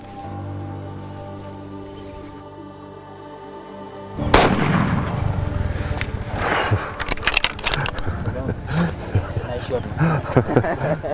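A single loud rifle shot at a reedbuck on a hunt in Uganda cracks out after a quiet stretch, followed by rustling movement and people talking nearby.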